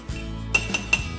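Metal utensil clinks three times against a dish while chopping and stirring cooked food at home, sharp taps over a steady low hum.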